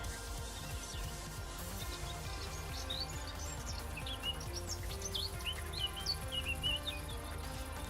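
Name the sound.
bird calls from Minecraft ambient sounds mod, video game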